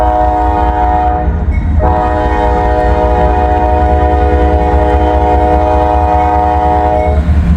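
A steel coil freight train out of Middletown, Ohio rumbles past up close, its horn blaring in a long, sustained chord over the steady heavy roll of the cars.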